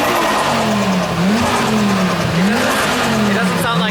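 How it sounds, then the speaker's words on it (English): A loud 600 hp twin-turbo Audi TT Clubsport engine revs continuously, pitch rising and falling in sweeping waves with a sharp whooshing hiss of a turbo blow-off valve, no voices heard. "The blow-up valve noise is insane."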